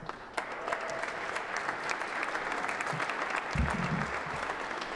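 An audience at the 2020 Black Excellence on the Hill gathering in Massachusetts applauds its legislative leaders with steady, crackling clapping. A few duller thumps sound near the end.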